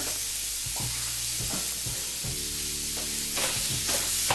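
Beef frying in a hot pan for stuffed shells: a loud, close sizzle with repeated scraping and tapping of a utensil as the meat is tossed and stirred, no voices over it.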